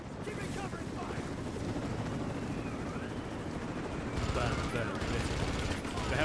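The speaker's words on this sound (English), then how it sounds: "The helicopter's annoying." Helicopter rotor drone and bursts of gunfire from a firefight in Rise of the Tomb Raider on PC, a dense continuous roar of shots and engine noise that swells louder toward the end.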